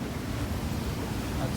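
Rough seas in bad weather wash around a big sailing boat, with waves running almost on the beam: a constant, dense roar of water and wind close to the microphone.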